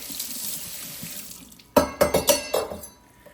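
A kitchen knife rinsed under a running tap at a sink, a soft stream of water at first and then several sharp splashing bursts as the blade passes through the flow, close by.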